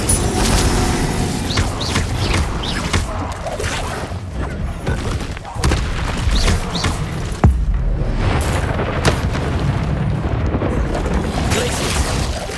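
Fire spell blasts from Hogwarts Legacy on Xbox Series X, loud booming bursts repeating through a dense, busy mix of magical combat effects, with a sharp crack near the middle.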